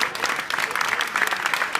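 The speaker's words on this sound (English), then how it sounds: "can I have a hand of applause for the 2 best?" Audience clapping for Scott Adkins and Michael Jai White at a UK martial arts show Q&A, a dense, steady burst of applause from a crowd filling the room.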